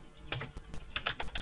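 Fast, light clicking of keys on a computer keyboard while code is typed in Delphi 7, a quick irregular patter of keystrokes, close and fairly quiet, with no voice.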